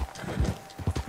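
Horse hooves clip-clopping in Red Dead Redemption 2, a quick uneven series of close, dull hoof strikes over about a second with no speech.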